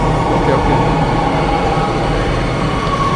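Train pulling into a station in the Roblox horror game The Mimic, a steady loud rumble of rail cars with a faint squeal of wheels running throughout.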